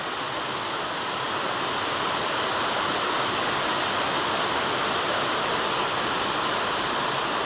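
Heavy rain pours down steadily in a rural setting, a dense, continuous broadband wash of falling water that stays loud and unbroken throughout with no voices.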